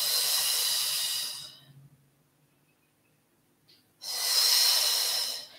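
Audible yoga breathing close to the microphone: a long breathy exhale, a quiet pause, then a strong hissing inhale, slow and even in rhythm.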